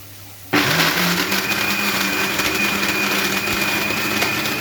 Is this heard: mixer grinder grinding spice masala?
yes